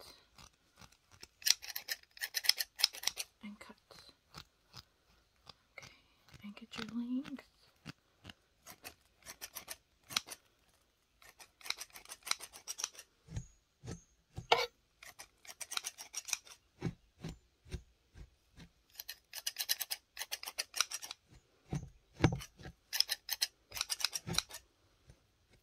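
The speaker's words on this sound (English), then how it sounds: "So I'm just gonna comb it and cut." Scissors snip through combed hair in short crisp bursts, some single cuts and some quick runs, close and quiet against a near-silent background, with occasional soft comb and handling noises between.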